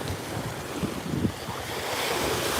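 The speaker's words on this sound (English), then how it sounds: "Can you guys hear the waves at all? It's pretty loud" Steady roar of surf with gusty wind buffeting the microphone, waves washing continuously without a break.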